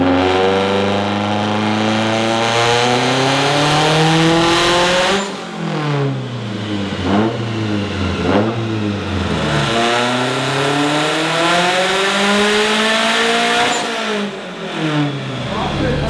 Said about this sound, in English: STI is loud, like loud.